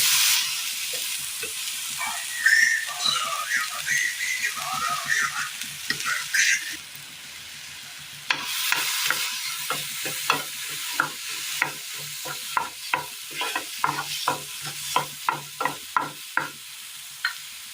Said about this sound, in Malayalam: അടുപ്പത്ത് പാൻ വെച്ച് കൊടുത്ത് ഇതിലേക്ക് നമുക്ക് അരിഞ്ഞു വെച്ചിരിക്കുന്ന പഴം ഇട്ട് കൊടുക്കാം.